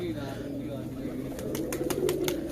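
Giribaj pigeons coo softly in low, throaty rolls at a faint level, with a few sharp ticking or flapping sounds toward the end and quiet background noise around them.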